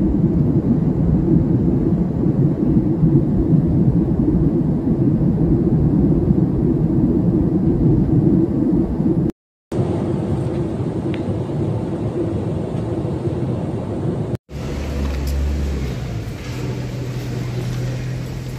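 Steady, loud low rumble of an airliner cabin in flight on a trip to Mumbai, with the engine roar continuing through landing, broken by two brief cuts of silence and a shift in tone near the end.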